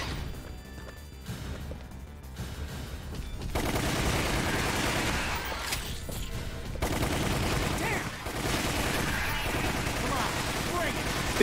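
Rapid, dense gunfire from a weapon in the video game Resident Evil: Umbrella Chronicles, a steady loud barrage of shots with crashes and impacts mixed in, going on without a break.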